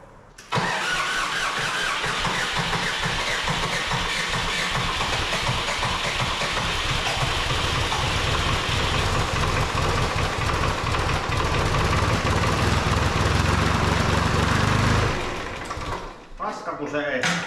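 Valmet 565.2 tractor engine with its hood off, cranking and then running loud and rough as it struggles under load, roaring steadily before it bogs down and fades, with voices nearby.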